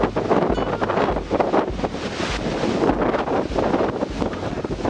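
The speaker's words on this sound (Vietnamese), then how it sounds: "Thực sự là gió muốn bay người luôn." Strong gusts buffet the microphone outdoors at a famous natural landmark, a continuous loud roaring rumble that swells and dips throughout with no talk.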